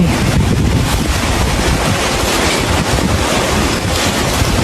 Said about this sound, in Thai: เสียงอะไรลมแรงขึ้นมาเลย พี่นู่น มีลมกระโชกด้วย